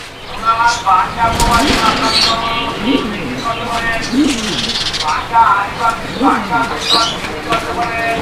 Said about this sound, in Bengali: আপনারা নটটার ডাকটা একটু খেয়াল করেন যে কি পরিমাণ ডাকাডাকি করে